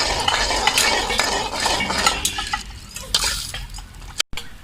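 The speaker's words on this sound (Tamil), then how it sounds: "இதை எல்லாத்தையும் நல்லா மிக்ஸ் பண்ணி விட்டுடலாம்." A spoon scrapes and clinks around a pan while a tamarind extract mixture is stirred for puliyodharai, with soft wet sizzling underneath and a brief pause near the end.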